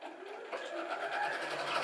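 Sewing machine stitching with the thread tension turned up to maximum, a short, close, steady mechanical whir of fast stitching.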